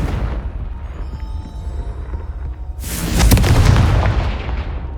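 A Confringo blasting spell in Hogwarts Legacy sets off a single loud, close explosion: a sharp boom about three seconds in that rumbles and fades slowly over a low background.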